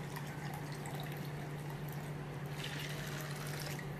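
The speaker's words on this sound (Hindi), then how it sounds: "फिर ऐसे ही पानी ऊपर से डाल के हमें ऐसे निकालना है।" Water is poured over soaked sabudana (sago pearls) and drained off while rinsing them, giving a soft continuous trickle and splash at moderate level with a steady low hum underneath and no voice.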